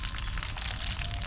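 Snapper fish frying in hot oil in a Guyanese home kitchen, a steady dense sizzle and crackle running unbroken throughout, close and fairly loud, with no talk.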